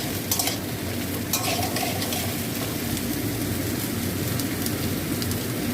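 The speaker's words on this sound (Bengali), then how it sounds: "এটা একসঙ্গে সব ভেজে নেবো আমি আগে।" Pieces of potato, pumpkin and pointed gourd fry together in a pan, a steady close sizzle with a few scraping stirs near the start.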